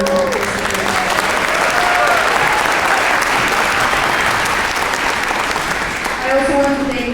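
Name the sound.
audience applause at school musical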